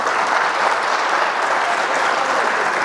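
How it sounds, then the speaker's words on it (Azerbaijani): Dense, sustained audience applause, many hands clapping steadily at even loudness from start to end. "gəlin sakit mənim alqışlayaq."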